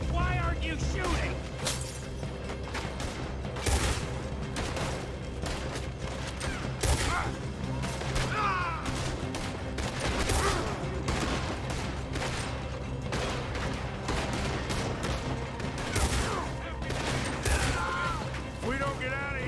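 Rapid bursts of gunfire rattle through a chaotic shootout in Red Dead Redemption 2, with repeated loud shots and crashes over constant background clatter while voices shout throughout.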